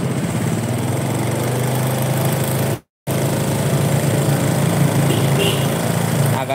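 A Honda Supra 125 motorcycle engine, running hot, revs steadily with a loud, close, buzzing drone that drops out briefly for a split second before resuming at the same pitch.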